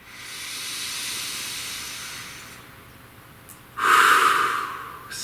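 A person takes a slow deep breath in, a long soft hiss of inhaled air that fades, then a louder, rushing exhale near the end, close and alone without talk.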